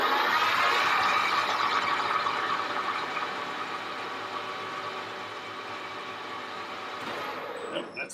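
A manual lathe turns 410 stainless steel at about 250 RPM, giving off a loud, dense, continuous whirring hiss with a steady mechanical hum that eases slightly and ends in a few faint clicks.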